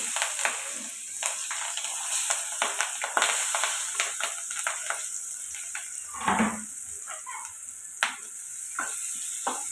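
Chopped green chilies and onions fry in hot oil in a pan, a continuous close sizzle broken by scattered stirring scrapes and clinks of the spoon, with no voices.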